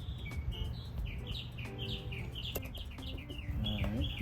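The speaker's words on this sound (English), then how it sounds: "that bird had to go crazy breaking in" An outdoor bird chirps repeatedly in quick, busy bursts near a garage during work on a Honda Goldwing carburetor install, with faint clatter and background noise underneath.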